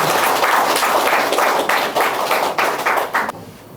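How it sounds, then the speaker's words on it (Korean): Audience applause welcoming a sijo poet at a Korean literary talk event, a dense burst of clapping that swells and pulses, then cuts off abruptly near the end. "이월 시조시인님 큰 박수로 환영해 주시기 바랍니다."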